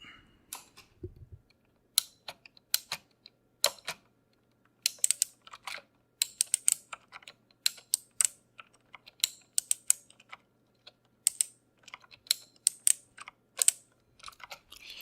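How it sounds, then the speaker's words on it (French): Rapid clicking of keys being typed on a backlit computer keyboard, irregular bursts of taps with short pauses, close up and alone. "Un clavier rétroéclairé."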